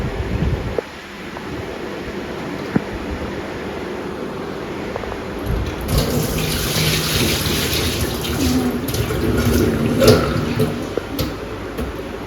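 Water pours and splashes steadily as it is drained off freshly churned homemade butter, growing louder and more broken about halfway through with brief splattering bursts.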